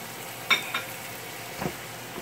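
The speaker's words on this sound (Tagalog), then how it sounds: "Lagyan na po natin ng patis. Saka po natin to halu-haluin." A utensil stirring chicken vermicelli soup in a pot after fish sauce is added, a few short scraping clinks, close and fairly clear against a low simmering background, with no talk.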